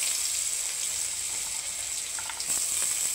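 Carrots and other vegetables go into a hot pan for a children's dalia khichuri, setting off a steady, close, crackling fry sizzle that holds evenly throughout with no talking.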